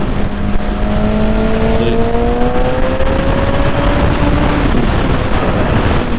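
A 2014 Honda CBR1000RR motorcycle engine revs and pulls hard, its rising whine climbing steadily through the gears, loud and continuous under heavy wind rush.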